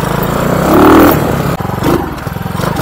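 A RPS Condor 150cc motorcycle engine with a Nibbi 26mm carburetor revs loudly nearby, the throttle swelling then sagging in a boggy, uneven way before a second shorter blip; no one speaks.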